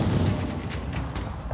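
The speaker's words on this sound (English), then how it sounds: "Oh, it's a heavy cannon!" A heavy cannon fires in the video game Phoenix Point, a dense, booming blast with rumbling low end that fills the short moment at steady loudness, without any voices.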